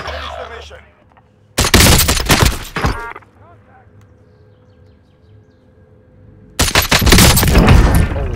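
DMR rifle fire in the Warzone video game: two loud, close bursts of rapid shots, with a quieter stretch between them.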